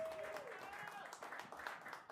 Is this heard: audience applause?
yes